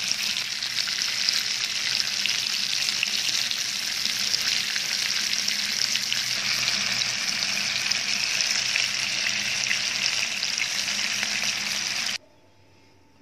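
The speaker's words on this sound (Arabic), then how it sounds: "هحطها كده، هسيبها بقى تتشوح على المكنة، وبعدين اقلبها على الناحية التانية" Kofta meatballs with cheese sear in oil in a frying pan, a steady loud close sizzle and crackle holding without pause for about twelve seconds before cutting off abruptly.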